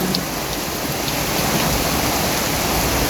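Torrential rain pours over a home garden and its exposed plants, a constant, close roaring hiss with scattered drop patter and no talking.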